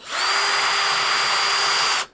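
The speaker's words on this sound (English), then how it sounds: "Whenever the drill bit is in wood, you want it to be spinning." Power drill with its bit spinning steadily into wood, a loud continuous high whine lasting about two seconds with a sharp start and a quick cutoff.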